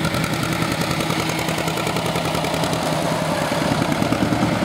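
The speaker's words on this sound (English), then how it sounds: "Got a John Deere AR coming up here also." A John Deere AR tractor engine runs steadily at a steady throttle, a continuous loud putter with no pauses and no voices.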